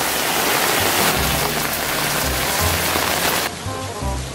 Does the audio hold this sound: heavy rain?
yes